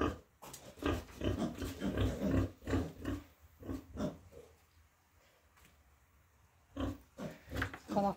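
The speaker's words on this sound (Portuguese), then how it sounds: "A porca aqui, ó." Pigs on a small farm grunt and oink, a sow among them, in a close run of snorty bursts that pause for a few seconds near the middle and then pick up again.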